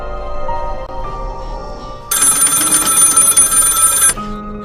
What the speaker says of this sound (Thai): โทรศัพท์ข้างๆเธอก็ดังขึ้น